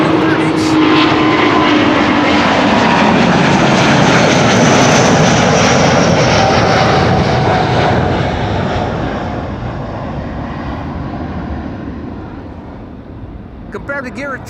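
Airbus A330neo airliner taking off at Amsterdam Schiphol Airport, a loud, broad jet-engine roar that holds steady and then slowly fades as it climbs away, with faint voices near the end.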